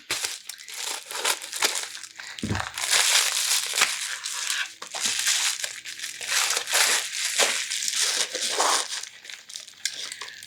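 Close crinkling and crunching of plastic packaging as scissors cut through it, irregular and continuous for several seconds with no voices.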